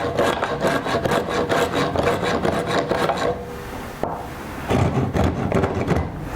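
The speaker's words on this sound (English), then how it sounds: "So I'm just gonna run my block planer on it." A hand block plane shaving a piece of a wooden flag frame: rapid, rhythmic rasping strokes close up, a short pause, then another burst of scraping passes.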